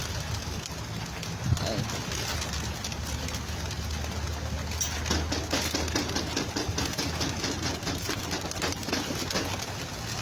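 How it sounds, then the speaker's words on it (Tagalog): Outdoor ambience at a pigeon race release in Sariaya, Quezon, with many birds, low pigeon coos and fluttering wings scattered throughout, plus a faint engine rumble in the background. "Ibon, ang dami."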